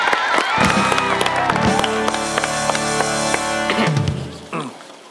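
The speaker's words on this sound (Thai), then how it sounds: "เอาปรบมือให้คุณพ่อหน่อย" An audience at a wedding ceremony in Thailand claps for the father, a sustained wave of applause and cheering over a loud backing music track, dying away near the end.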